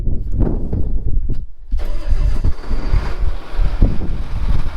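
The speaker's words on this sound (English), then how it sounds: "Time to start up Pat's tractor." A farm tractor's engine cranks and fires up outdoors, settling into a loud, steady idle with wind buffeting the microphone.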